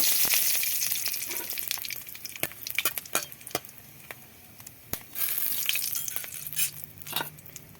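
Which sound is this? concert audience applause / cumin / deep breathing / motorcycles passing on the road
cumin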